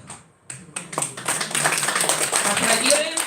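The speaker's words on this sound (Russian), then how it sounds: "Аплодируем." Applause from an audience at a presentation event swells after a brief lull, building into sustained dense clapping that fills the room, with some voices mixed in.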